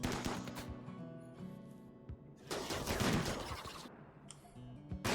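Gunfire in the video game RimWorld, with bursts of shots and clattering impacts running continuously, loud and close, rising to a dense barrage midway before easing off.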